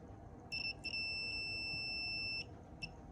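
A shrill multimeter continuity buzzer sounds in a few short chirps, then one steady beep lasting over a second, before another brief chirp, over faint background hiss.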